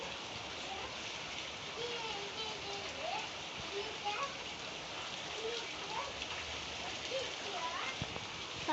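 Steady rain pouring indoors inside a house, a dense continuous hiss with scattered drips, while voices talk and call out over it; no distinct thunder clap stands out.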